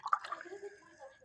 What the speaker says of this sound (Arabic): كوبايتين ميه عشان عسل البسبوسه